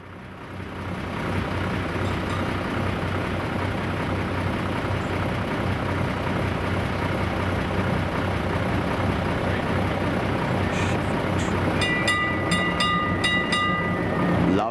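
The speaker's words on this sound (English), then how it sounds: "Sheffield tram number 264." Sheffield tram number 264 running at Beamish Museum, an outdoor heritage site. A steady, close rumble of wheels and motor rolls on for the whole stretch, and a few bright metallic rings and squeals come near the end.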